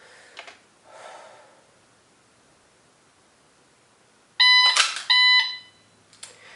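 Shot timer beeps during dry fire practice, sounding as a loud, sharp electronic tone burst with a short gap and then a second sustained beep, followed by a faint click, in an otherwise quiet room.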